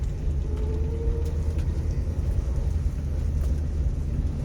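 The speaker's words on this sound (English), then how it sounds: "Okay, here's something dragging, it sounds like." A Mercury Cougar drives with something dragging and rattling underneath. A continuous low road rumble runs throughout, with faint scraping and clatter mixed in and no speech.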